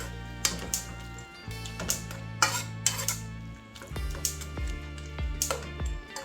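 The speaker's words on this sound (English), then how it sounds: "Going to stir." Pimento grains are stirred into coconut milk in a pot for Jamaican-style steamed fish, with a spoon tapping and scraping the pot in an irregular clinking rhythm over a low hum, close by.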